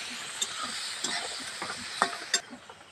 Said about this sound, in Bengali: এবার নুনটা দিয়ে টমেটোকে ভালো করে ভেজে নেবো।